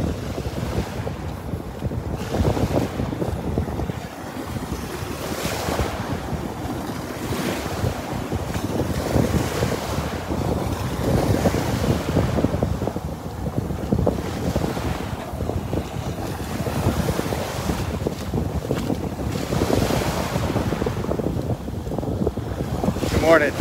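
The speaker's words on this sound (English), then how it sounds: "heading north into the wind, into that beautiful breeze, that beautiful balmy breeze" A steady onshore breeze roars across the microphone on Vanderbilt Beach, mixed with the continuous wash of surf, with no gaps through the whole stretch.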